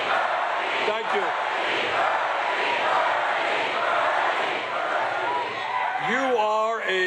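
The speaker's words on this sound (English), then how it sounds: "You are a loud crowd." A large crowd at a political rally in Detroit cheers and roars loudly and steadily, a dense wash of voices, with a speaker's voice briefly heard at the start and end.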